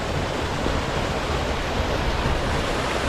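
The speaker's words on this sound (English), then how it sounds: "lovely little waterfall" A small forest waterfall in the Cheviot hills of Northumberland in winter, a steady close broadband rushing of falling water with no other sounds.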